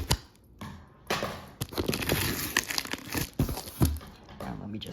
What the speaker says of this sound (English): So let's get to cutting the tape.